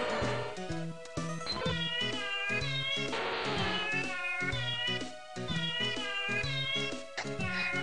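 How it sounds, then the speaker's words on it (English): A chorus of several cats meows in overlapping, drawn-out, tonal calls, some rising into caterwauls. The calls come loud and continuous over a background of game sounds, with no talking. "we will be serenaded by a group of cats"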